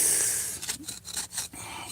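A screwdriver scrapes and digs packed dirt and grime loose, giving a run of short, close rasping strokes over about two seconds with brief pauses between them.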